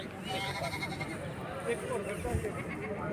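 A goat bleats amid a livestock sale, with bargaining voices talking over a steady background of farmyard noise.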